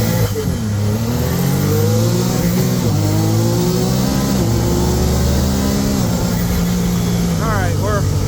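Car engine steadily driving and accelerating along a residential road on the way to a Publix supermarket, a continuous mid-pitched drone with rising harmonics, close and loud throughout.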